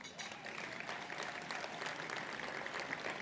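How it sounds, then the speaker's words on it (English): Guests at the annual Oxford House recovery banquet clap, a soft, distant, even patter of applause that holds steady throughout. "let's clap it"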